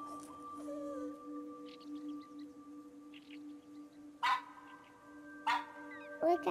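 Manju, the pet dog in That Dragon, Cancer, lets out three short yips and barks, spaced apart, over a soft sustained musical drone.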